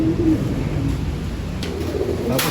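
Pigeons in a loft coo softly in low, throaty murmurs, a steady soft background of bird calls with a few faint higher chirps, nobody talking.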